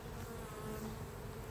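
Honey bees buzz densely at an open hive on a hot summer day, a constant close swarm drone with no talking.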